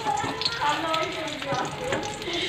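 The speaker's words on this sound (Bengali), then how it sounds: "আর এইদিকে বেগুন ভাজা হচ্ছে।" Eggplant (brinjal) slices fry in a pan in a home kitchen, giving a steady close sizzle and crackle that runs through the whole short stretch with no one speaking.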